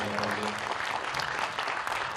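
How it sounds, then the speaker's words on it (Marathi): Applause from an audience at a film trailer launch event, a dense burst of clapping that carries steadily, moderately loud, with some faint voices mixed in. "जोरदार टाळ्या."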